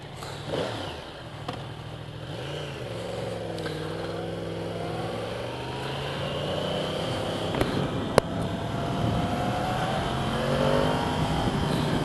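A Yamaha YZF-R1M sport motorcycle revs repeatedly, its pitch rising and falling through several sweeps while riding, with steady wind and road noise underneath.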